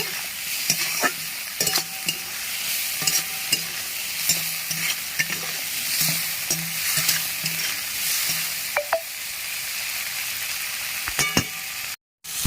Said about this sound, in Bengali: মাছগুলো একটু লাল করে ভেজে নেব